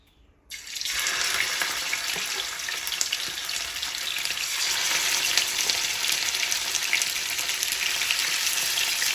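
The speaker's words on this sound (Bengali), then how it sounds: "তেলের মধ্যেই এখন মুরগির মাংসটা আমি দিয়ে দিব দিয়ে মাংসটা আমি একদম লাল লাল করে ভেজে নিব" Chicken meat hits hot oil over high heat, cooked with cashew nuts and onion. After a moment of near silence a loud, dense sizzle bursts in and holds steady throughout.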